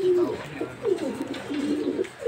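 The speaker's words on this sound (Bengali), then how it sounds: "এইখানে দেখতে পাচ্ছেন এক জোড়া সবজি রেসার, সবজি রেসার কবুতর।" A pair of racing pigeons, a male and a female, coo at close range in soft, repeated rolling calls, with faint background noise and no speech.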